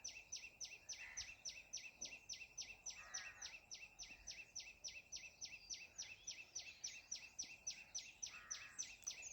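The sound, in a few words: unidentified bird calling continuously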